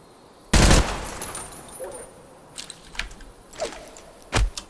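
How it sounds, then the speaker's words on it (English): A burst of submachine gun fire in Project Silverfish, a furry STALKER-style shooter game, cracks out loud and sharp near the start, followed by a few scattered, softer shots and clicks. "I'll give this guy a shot. Why not? I haven't used it yet. It's SMG."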